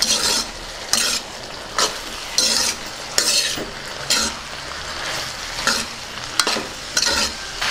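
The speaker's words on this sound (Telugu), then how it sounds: "ఒకసారి బాగా కలుపుకుందాం." A spoon stirs a potato and broad bean fry with coriander in a frying pan. Sharp scrapes come at a regular, roughly one-second rhythm over a continuous soft sizzle, close up and with no voices.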